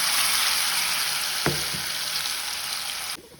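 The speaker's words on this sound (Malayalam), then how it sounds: "ഇനിയാണ് നമ്മൾ ഈ ഒരു എണ്ണയിലേക്കാണ് നമ്മുടെ ചേന ഇട്ട് കൊടുക്കുന്നത്." Pieces of elephant foot yam sizzle steadily in hot oil, a dense continuous hiss with a brief clatter partway through as pieces settle, then the sizzle cuts off quietly at the end.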